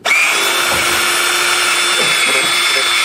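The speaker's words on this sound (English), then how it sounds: "you used the battery drill this time" A battery drill churns Nutella vanilla variegate ice cream, a steady loud whirring motor drone with a constant pitch and a slight grinding texture, running close up throughout with faint voices underneath.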